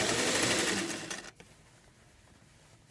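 A sewing machine stitches fabric in a loud, steady whir for just over a second, then stops abruptly, leaving a quiet room with faint handling noises.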